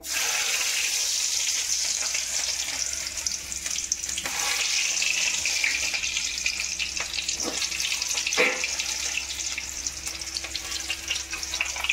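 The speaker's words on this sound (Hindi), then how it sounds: "अब ये थोड़ा सा ऐसे गार्लिक भी डाल दूंगी इसमें ऑयल में" Crushed garlic dropped into hot cooking oil fries with a steady, bright crackling sizzle, close and continuous, and a few sharp pops and clinks stand out partway through.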